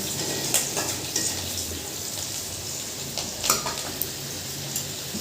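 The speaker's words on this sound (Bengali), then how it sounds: "এই দেখো কাঁচা লঙ্কাটা আর কালো জিরেটা একটু লাল লাল করে ভেজে নেব।" Green chilli and black cumin frying in oil in a pan, a steady close sizzle with a few sharp clinks and scrapes of stirring scattered through it, and no voices.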